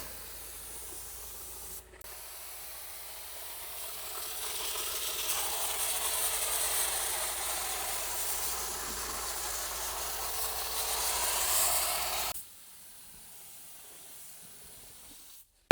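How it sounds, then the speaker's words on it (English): A spray gun shoots mixed epoxy primer onto a truck body in one long, steady, loud hiss lasting about ten seconds, starting up after a brief blip and cutting off sharply at the end. "We got the epoxy primer already mixed up. Now it's time to start shooting it."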